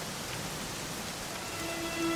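Steady rainfall from the video game Dragon Quest, an even, soft wash of drops hissing continuously without pause, no voices over it.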